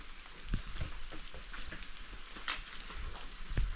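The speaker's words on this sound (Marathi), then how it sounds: "मस्त पाऊस चालू आहे" Steady rain patters on surfaces nearby on a farm with freshly planted seedlings, a soft continuous hiss broken by scattered heavier drops, with no voices.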